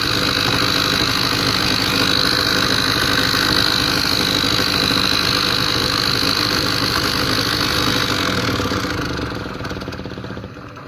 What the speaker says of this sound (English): The motor is still turning while put under load.